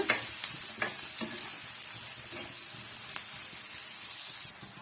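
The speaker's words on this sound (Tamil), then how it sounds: "இதையும் சேர்த்து நல்லா வந்து வதக்கி விட்டுக்குங்க" Onions with ginger-garlic paste sauté in a pan, a steady close sizzle and hiss with occasional stirring scrapes and clinks, no voices.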